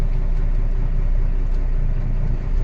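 A tractor-trailer truck idles steadily in gear as it tugs gently against its set trailer brake, a loud, even low engine rumble from inside the cab with no other sounds.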